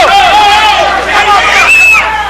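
Quiet murmur from a boxing-match crowd, faint babble sitting beneath a commentator's continuous talk.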